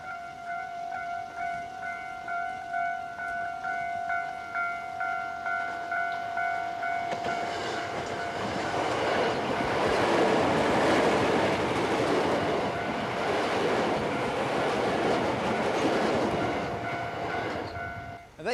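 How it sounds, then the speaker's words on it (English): A horn sounds as a train approaches, then the loud rumble and clatter of rail cars rolls past for several seconds before easing off. "Here comes the train."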